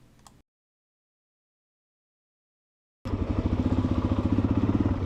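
A Honda Trail 125 motorcycle on a mountain trail in Colorado rumbles in loudly after three seconds of silence, its single-cylinder engine throbbing in a steady rapid pulse up close.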